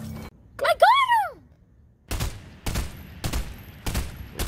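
Burst-rifle gunfire in the video game Fortnite: a rising and falling electronic whoosh, then four evenly spaced, loud, sharp bursts of shots with short gaps between them.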